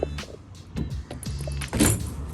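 Locking a budget truck tonneau cover: close metallic clicks and rattles of the latch and key mechanism, with a soft thump near the end, over faint outdoor background.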